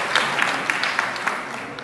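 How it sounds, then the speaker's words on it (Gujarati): An audience claps again for a theatre team after a Gujarati stage performance, giving a short burst of brisk, even applause with sharp individual claps standing out. "ફરીથી તાળી વગાડી દો"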